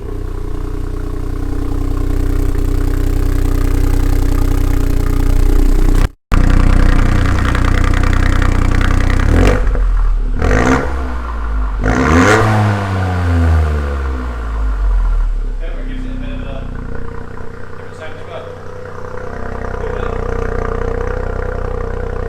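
A 2020 MK8 Ford Fiesta ST with an upgraded intake and Revo panel filter idles loudly, cuts briefly, then revs several times with rising and falling sweeps before settling back to a rumbling idle.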